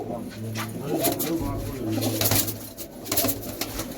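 Domestic flying pigeons coo in a repeated, low, throaty rhythm close by, with continuous background noise and some voices murmuring underneath.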